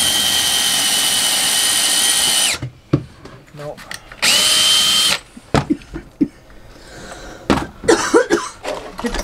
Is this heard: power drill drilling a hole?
yes